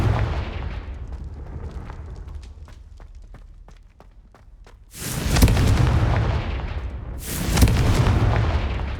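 In Hogwarts Legacy, the Confringo spell sets off two loud, booming explosive bursts a couple of seconds apart. Quieter crackling ticks come before them.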